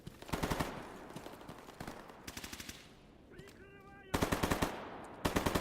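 Machine-gun fire in the video game STALKER Gamma, repeated rapid bursts of automatic shots at mid distance, with a short tonal electronic chirp between bursts and a voice talking faintly underneath.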